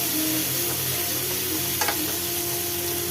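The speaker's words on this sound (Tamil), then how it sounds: "இப்போ இதை நல்லா வதக்கிக்கலாம்" Chayote (chow chow) pieces sauté in a pan for a kootu with a steady, close hiss of frying. One faint scrape of stirring comes midway, and no one speaks.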